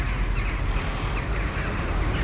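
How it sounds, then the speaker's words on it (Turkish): Migrating birds call outdoors in the Kars and Ardahan region, scattered faint calls over steady wind-like background noise, with no talking. "Kuşların sesini duyuyor musunuz? Göçmeye başladılar artık."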